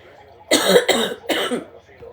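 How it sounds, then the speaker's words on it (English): Three harsh coughs in quick succession, close and fairly loud, with short pauses between them. "Excuse me, I still have that cough in place."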